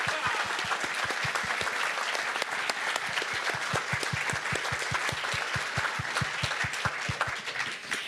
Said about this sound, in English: let's give them another round of applause for the radio